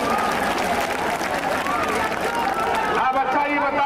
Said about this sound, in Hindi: दोनों हाथ उठाओ जोर से और ताली बजा करके स्वागत करो